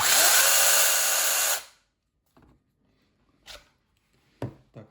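A Tex.AC TAOE-S6 brushless cordless chainsaw with a 6-inch bar whines loudly for a moment, then cuts off abruptly, followed by quiet with a few scattered clicks and knocks.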